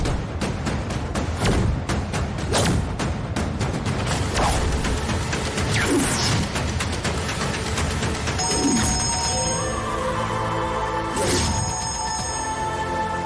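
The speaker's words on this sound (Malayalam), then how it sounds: "എവിടെ ഫോൺ ബെല്ലടിക്കുന്നില്ലേ?" A phone rings in a domestic scene, its electronic ringtone tones entering in the latter part over background clatter and music-like hits.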